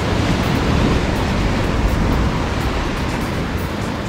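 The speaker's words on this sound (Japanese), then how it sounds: "波が正面から来るからちょっと気持ち悪いなこれ。" Ocean waves breaking against a rocky shore at Niezura, Mie, Japan, during a rock-fishing outing, form a loud, steady roar of surf and spray with constant wash and no clear gaps.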